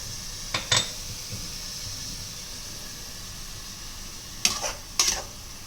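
Chicken and onions fry in a pan with salt, giving a faint, steady sizzle broken by a few sharp clinks of a utensil against the pan, with no voices.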